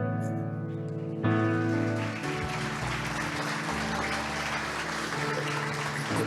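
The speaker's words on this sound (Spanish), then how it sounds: "El aplauso es para el Señor." A church congregation claps together in a dense, continuous wash of applause after a sung organ or keyboard chord fades out.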